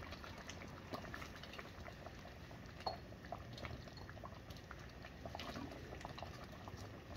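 Chicken breasts and potatoes simmer in green salsa, giving a soft, continuous bubbling with scattered small pops and drips, faint and close, with no one talking.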